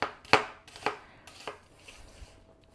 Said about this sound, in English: We're going to chop up 1 onion